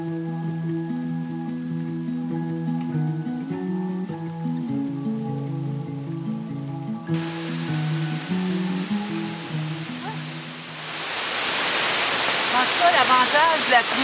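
Instrumental music plays first, then gives way to a rising, steady roar of rain-swollen waterfalls and rivers at Mont-Tremblant, Québec, loud and close by the end.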